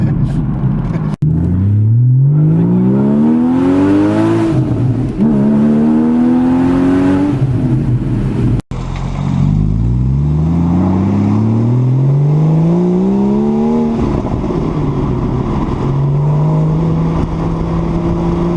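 A Porsche Boxster S carves through a series of turns, its engine note rising and falling through repeated revs and shifts, loud and close from inside the car with no talking.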